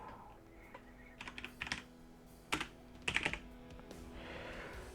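Keys are typed on a computer keyboard in uneven bursts of clicks, with a clustered flurry near the middle, against a quiet background hum, while playing Crusader Kings 2.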